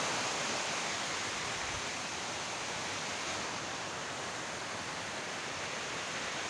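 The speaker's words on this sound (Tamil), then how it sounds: "இந்த மாதிரி ஒரு பயங்கரமான ஃபால்ஸ்" A dangerous waterfall roars in a steady, dense wash of broadband noise, loud and unbroken from start to finish with no voices over it.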